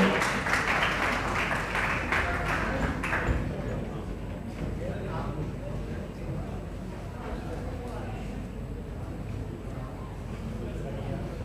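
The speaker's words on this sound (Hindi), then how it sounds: "हाँ जी, जोरदार तालियों से स्वागत कीजिए सर का।" Applause welcomes a speaker at an Indian public event, a burst of clapping for the first few seconds that fades into a murmuring hall with a voice over a loudspeaker.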